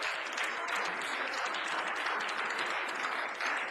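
A crowd at a youth debate tournament final applauds a quiz contestant, a steady wash of clapping that holds at an even level from start to finish.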